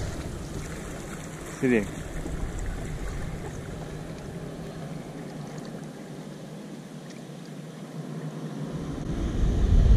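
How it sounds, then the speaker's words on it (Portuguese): A jet ski's turbine roars steadily as it accelerates on open water near a marina entrance in Rio, with someone speaking briefly over the constant engine and water noise. "Eu acelero agora."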